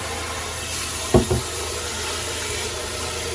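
A boat's hot water heater on a sailboat catches its flame with two quick, soft whumps close by, set against a steady background hiss.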